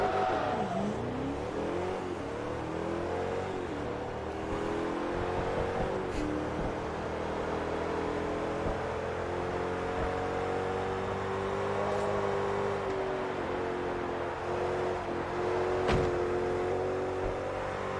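A 1200-horsepower Bugatti Veyron fitted with a spoiler, splitter and canards drones through a speedway race in Forza Motorsport 3, its engine note rising and shifting steadily in pitch, fairly quiet and continuous with no voices present.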